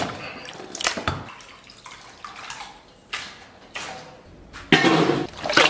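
Raw lamb rinsed in clean water in a bowl, with irregular splashes, sloshing and dripping bursts of varying loudness, close up and without speech.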